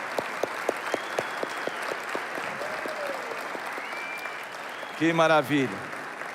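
Men in a church congregation clap in a scattered, rhythmic patter of distinct claps while a low tone sounds beneath, and near the end a voice speaks briefly over the clapping.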